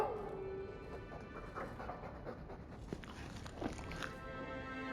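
A dog panting with faint whimpers in a video game, a steady breathy loop close up over a low continuous background of game ambience.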